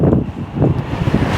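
Strong gusting wind buffeting the microphone outdoors in New York City, loud low rumbling bursts with no talk.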